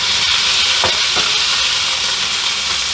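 A small spatula stirs ramen noodles in a hot pan, with a steady sizzle and frying hiss throughout and a couple of brief scraping strokes, no voices.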